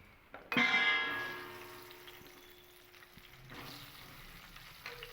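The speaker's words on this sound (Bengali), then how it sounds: "কেটে রাখা পটলগুলোকেও ভেজে নেব" Peeled pointed gourd (potol) pieces, each cut in two, hit hot oil in a pan with a loud burst of sizzling that settles into a steady, close frying hiss.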